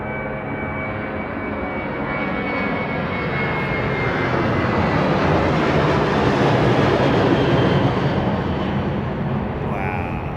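Jet aircraft departing Anchorage airport, a steady, loud roaring engine rumble that swells slightly and holds for the whole stretch, with no break in the noise.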